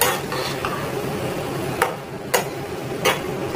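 A spoon stirs vegetable biryani masala in a hot pan, a soft continuous sizzle with a few sharp scrapes and taps of the utensil against the metal, close and steady with no talking.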